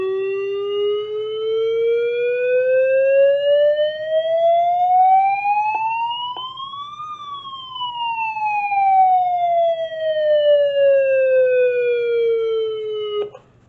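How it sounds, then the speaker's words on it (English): Midland WR10 weather radio sounding its alert tone, a loud steady siren-like wail that rises gradually to a peak, then slowly falls back down, alone with no talking. "the 12889 does not have an alert tone, but the Wr10 does."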